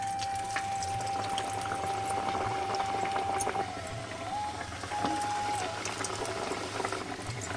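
Potato and bathua kachoris frying in hot oil in a wok, a dense, steady bubbling sizzle close by, with faint thin tones over it.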